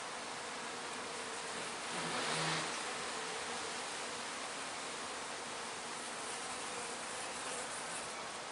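Dense, steady buzzing of a honeybee colony around its hive, a continuous hum that swells slightly then stays even, close and constant with no voices.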